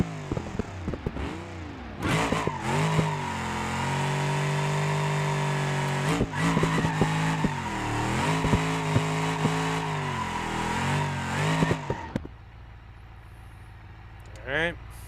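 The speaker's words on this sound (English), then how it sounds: "We're just going to do a burnout, go up to the line, launch it with these tires" A car in BeamNG.Drive doing a burnout on poor tires, its engine holding a loud sustained roar with revving swells and tire squeal for about ten seconds before cutting off, followed by brief quiet and a short burst.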